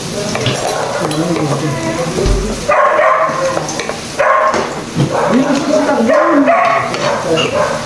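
A dog barks a few times in the background over steady sizzling and stirring in a pan of banana blossom, with people talking nearby.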